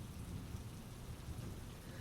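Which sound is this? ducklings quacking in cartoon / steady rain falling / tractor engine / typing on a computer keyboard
steady rain falling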